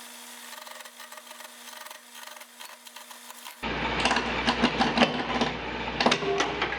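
Wood lathe turning 2x4 blanks with chisels: after a quiet opening with a low hum, a loud, dense scraping and chattering of the chisel against the spinning wood starts abruptly and continues to the end.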